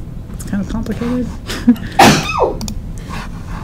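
A sneeze bursts out sharply near the middle, loud and close, amid ongoing conversational speech before and after it.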